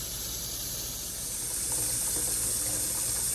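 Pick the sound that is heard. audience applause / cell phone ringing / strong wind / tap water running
tap water running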